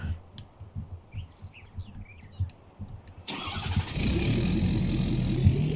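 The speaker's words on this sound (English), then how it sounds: "I got to start the engine." Tractor engine in Farming Simulator 19 cranking and catching at about three seconds, then settling into a loud, steady diesel idle that runs to the end, after a quieter stretch of soft background rumble.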